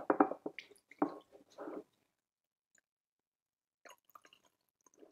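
Fukamushi sencha poured from a red kyusu teapot, with a close, brief splashing stream in the first couple of seconds, then silence and a few faint last drops shaken out.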